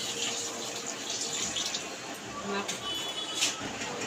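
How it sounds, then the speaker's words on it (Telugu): Water is poured steadily onto rice in a cooking pot while bagara rice is made, giving a soft, continuous rushing splash up close, with a faint voice in the background. "నాకు నీళ్ళు పోసుకోవాలి"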